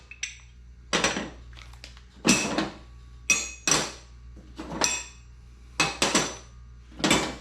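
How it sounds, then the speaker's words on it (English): Bolts are fitted into the side frames of a Harbor Freight tire changer, producing a series of about ten sharp metallic clanks and clinks spaced irregularly, close and distinct against quiet. "So let's get some of these bolts put in."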